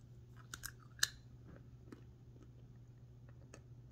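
Someone wearing dentures chews hard nuts such as peanuts, walnuts, pecans or cashews, giving a few faint, sparse crunches and clicks in a quiet room.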